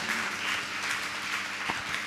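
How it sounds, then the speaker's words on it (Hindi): An audience applauds loudly at a religious question-and-answer gathering with Muni Pramansagar ji, a dense, continuous burst of many hands clapping together for the whole short stretch. "एक बार जोरदार ताली बजा दीजिए अनिता के लिए"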